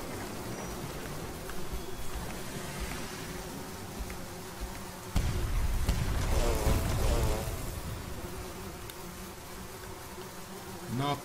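Bees buzzing around a giant beehive in the video game Sunless Skies, a continuous droning hum that swells louder midway, with occasional soft clicks and no talk.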